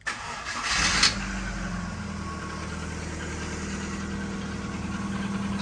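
A Rover Streetwise car engine, just fitted with a new exhaust, cranks and catches, then settles into a steady, quiet idle with a faint tappet ticking, heard close and without talk.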